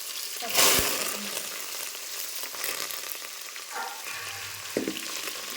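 Green chillies frying in a hot pan as a home cook prepares dishes for a family function, with a steady crackling sizzle throughout and brief stirring clatters near the start and end.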